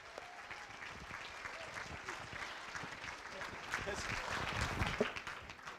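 Audience at a charity gala evening applauds in a continuous wash of clapping, moderately distant and fairly soft, swelling slightly toward the end.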